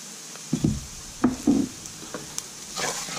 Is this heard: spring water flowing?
no